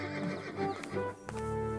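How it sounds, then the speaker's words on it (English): A cartoon horse from an animated Bible story gives a loud, close neigh and whinny over a steady music bed, with a faint clip-clop of hooves. "You have bought the finest horse in my stable."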